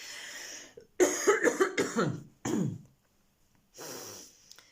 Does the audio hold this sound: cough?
yes